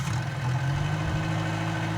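A Bell 47G helicopter's piston engine in Microsoft Flight Simulator runs as a steady, loud low drone that holds even for the whole stretch, with no speech.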